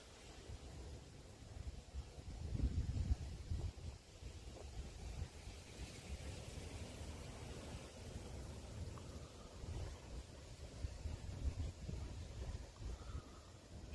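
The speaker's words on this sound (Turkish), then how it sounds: "Rüzgar." Wind blows steadily outdoors in nature by the water, a soft continuous rushing with gusts that swell and fade, faint and distant, with no voices.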